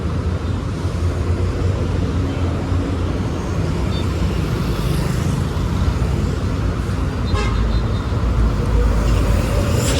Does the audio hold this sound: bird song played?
no